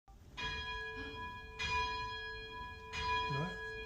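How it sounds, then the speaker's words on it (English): A bell in a Perth bell tower at Kings Park rings three times with long, bright sustained tones that overlap and hum on, fairly close and clear, with faint voices in the background. "Just to chime the bell."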